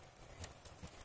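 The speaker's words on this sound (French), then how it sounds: "Eh ouais, mais c'est un cheval." Horse hooves clip-clop in a couple of soft, irregular steps on ground outdoors during a wildlife outing, faint and close against a quiet background.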